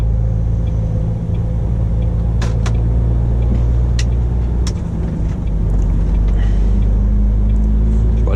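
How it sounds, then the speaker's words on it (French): Dense morning road traffic in Poitiers with many cars, heard from inside a vehicle as a steady loud low rumble, with a few brief sharper passing noises on top and no clear talking. "regardez un peu le nombre de voitures"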